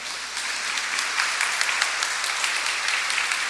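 Applause from a congregation at a church seminar, a broad, steady wash of many hands clapping that swells slightly after the start and holds evenly, with no voices over it.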